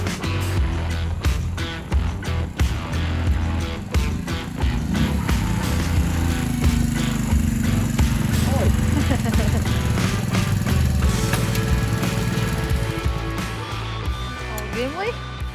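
A small moped engine on an AGM Caferacer Luxury mini bike runs continuously at close range during a test drive, its pitch shifting as it revs up and settles, with speech heard over the engine noise.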